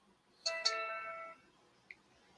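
A telephone rings once during a live morning call-in show while a guest is being dialed back: a loud, clear electronic tone lasting about a second, followed by a short faint blip and quiet line hiss.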